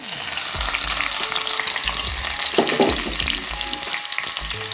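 Crushed shallots, garlic and dried red chillies sautéing in a pan, a loud, steady sizzle broken by repeated scraping stirs of a spoon, close and alone with no voices.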